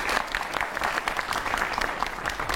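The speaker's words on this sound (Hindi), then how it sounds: "बहुत सारी तालियां शोएब भाई के लिए" A studio audience applauds cricketer Shoaib Akhtar's arrival on a cricket talk show, with dense, steady clapping throughout a short burst.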